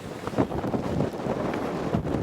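Strong gusting wind on Mau Son mountain near the Vietnam–China border buffets the microphone with rumbling, uneven bursts, loud and close throughout.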